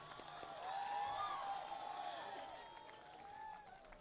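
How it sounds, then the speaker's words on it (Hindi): An audience at an All India Mushaira in Gorakhpur applauds and cheers to welcome a poet, a faint crowd roar with whistling and voices swelling, then easing off. "इस्तकबाल करें तालियों से"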